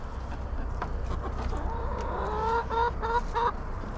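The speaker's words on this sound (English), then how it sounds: "them chickens are curious" Chickens in a chicken tractor cluck and murmur close by, with soft scattered clucks building into a run of louder, rhythmic clucking toward the end and no talking.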